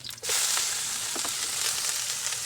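Fern (pako) sizzling in a hot pan, a steady bright frying hiss that swells in after a brief quiet start and holds loud and close with no talk.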